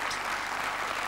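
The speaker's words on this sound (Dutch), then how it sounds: "geef haar een geweldig applaus, dames en heren" A brief, dense burst of studio audience applause on a Flemish quiz show, steady and fairly loud for its whole short length.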